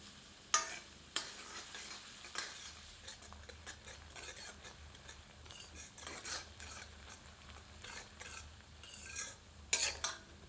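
Onions fry and sizzle in a pan over medium heat, stirred now and then with a utensil that scrapes and clinks against the metal, at steady moderate loudness with no talking.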